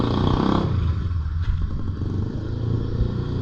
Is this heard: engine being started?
yes